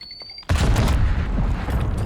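A Call of Duty Black Ops 6 grenade goes off in a sudden loud boom after a quiet moment, followed by a rumbling wash of debris and distant gunfire.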